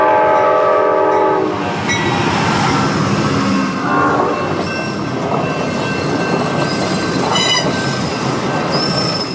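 A freight train rumbles past at close range with squealing wheels and clattering cars, its horn blaring in several loud blasts, with no voices.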